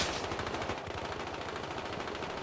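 Sniper fire in Battlefield Hardline on PS4, heard as dense, sustained distant gunfire crackling continuously under a noisy game soundscape.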